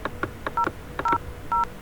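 Telephone keypad tones while dialing 5000 on a conference phone system, several quick beeps in an uneven rhythm over faint background clicks, close and clear, with no talk.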